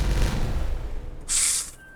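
An explosion set off in the beaver city-building game Timberborn: a low rumbling blast that fades, followed by a brief bright crackling burst, heard close and with no talk over it.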